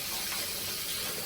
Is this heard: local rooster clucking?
no